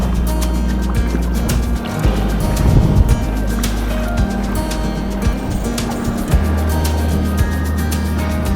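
A sea kayak paddling through Atlantic swell and foam off a steep rocky shoreline, water sloshing and splashing continuously close by, with a louder surge of splashing midway and wind buffeting throughout.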